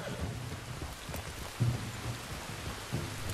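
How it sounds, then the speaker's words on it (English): Steady rain falls in the open-world western game Red Dead Redemption 2, a soft continuous hiss with a few faint low thuds underneath, quiet and even throughout. "You were right about the damn rain."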